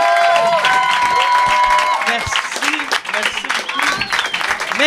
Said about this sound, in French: mesdames et messieurs, applaudissez-les